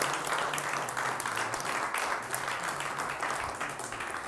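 Audience applause at a televised French studio show on AI, a steady broadband patter of clapping filling the whole stretch at moderate level, with faint voices mixed in underneath.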